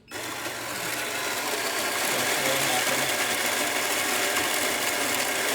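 A Kanen Monza espresso machine, just after a full tune-up, pulls a shot with a loud, steady pump hum that kicks in abruptly and holds evenly to the end.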